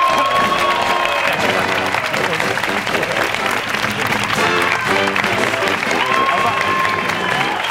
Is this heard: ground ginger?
no